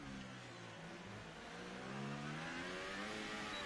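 An F1 car in a video game accelerates hard at the Belgian Grand Prix. Its engine note climbs steadily in pitch with a smooth, continuous whine and rising harmonics, close and sustained throughout with no talk.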